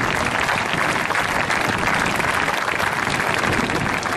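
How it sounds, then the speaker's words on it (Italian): Dense, steady applause from a large outdoor crowd at the Jesolo Air Extreme air show, cheering the UAE national aerobatic team; a continuous wash of clapping that holds evenly throughout. "Un grande applauso alla pattuglia acrobatica degli Emirati Arabi Uniti."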